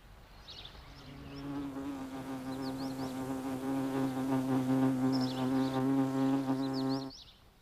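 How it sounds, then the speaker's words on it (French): Founding paper wasps buzz steadily nearby, a droning insect hum that swells in loudness and holds for several seconds before cutting off, with faint chirpy background sounds. "le premier réflexe de toutes les guêpes fondatrices est de chercher un endroit propice où installer leur nid"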